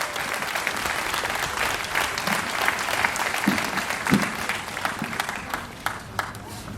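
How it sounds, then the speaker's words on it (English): An audience applauds at a speech by a Rhode Island advocate for frontline communities, sustained clapping from a sizable crowd that holds steady for several seconds with a few louder individual claps. "So I want to give them a round of applause"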